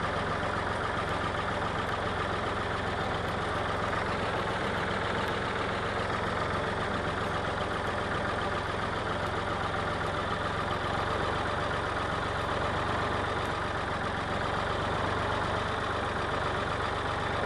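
Steady tractor engine running at a constant throttle while planting soybeans in the field, a continuous even drone with no talk and no breaks in it.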